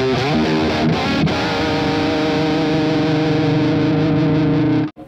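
A distorted electric guitar plays through a portable mini amp set for a metal tone with slapback delay and large-room reverb. Sustained chords ring loud and dense, with echoing repeats, before cutting off abruptly at the end.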